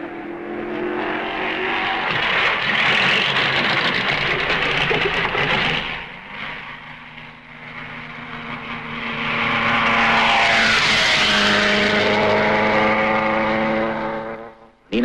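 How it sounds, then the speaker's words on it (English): 1955 Grand Prix race cars, a Mercedes and a Ferrari, drive on a wet road circuit, their engines droning and rising in pitch, one car receding before another approaches loud and close and sweeps past near the end. "Nina Farina is away in his Ferrari."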